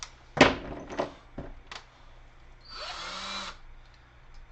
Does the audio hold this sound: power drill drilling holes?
yes